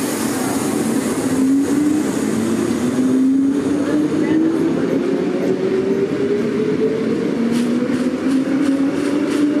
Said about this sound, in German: Zu den Hauptverkehrszeiten sind die Fahrzeuge der Baureihe 420 aktuell unverzichtbar.